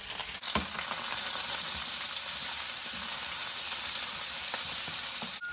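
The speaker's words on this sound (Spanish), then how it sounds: "Ya las costillitas están bien doraditas y le vamos a agregar los nopales." Pork ribs browning in a pan as nopales are added, a steady hissing sizzle at moderate level throughout with a few soft clinks, no voices.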